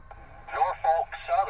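Railroad defect detector radio transmission on a Norfolk Southern line: a thin, band-limited automated voice announcement crackles out in three short bursts over a low hiss.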